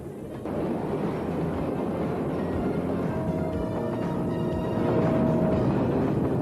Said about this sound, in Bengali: ট্রেনে করে চট্টগ্রামের উদ্দেশ্যে রওনা হয়েছি।